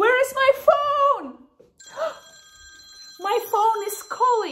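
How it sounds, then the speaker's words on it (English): A mobile phone rings in a school setting: a steady electronic ringtone of sustained tones sounds between stretches of a child's speech, near and moderately loud. "My phone is calling."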